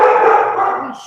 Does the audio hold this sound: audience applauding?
no